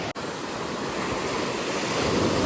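Sea waves wash onto Kalapathar beach on Havelock Island in the Andamans as a steady, loud broadband roar with wind, after a brief dropout at the very start.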